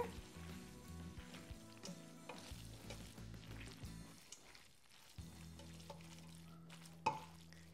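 Fettuccine Alfredo being tossed with its sauce, a soft wet stirring and squelching of pasta in a pan, faint and close, with gentle clinks and a brief pause before the mixing resumes.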